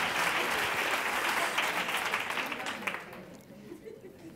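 An audience at a talk on teachers' emotional skills breaks into dense applause that holds strong at first, then thins out and fades away near the end.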